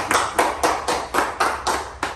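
An audience at a hypnotherapy show claps in unison, about nine sharp, evenly spaced claps in a steady rhythm, loud and close with no talking.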